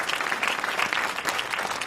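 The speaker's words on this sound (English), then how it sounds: "let's give both panels a round of applause." Conference audience applauds panels at a plenary session, dense steady clapping from a large crowd filling the room.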